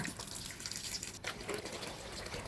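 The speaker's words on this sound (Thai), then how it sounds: "จากนั้นนำมาล้างสองถึงสามน้ำนะคะ ล้างให้สะอาดเลยค่ะ จนกว่าน้ำจะใสนะคะ" Soaked bamboo shoots being rinsed in water in a kitchen, a steady close splashing and trickling of water with faint dripping, no voices.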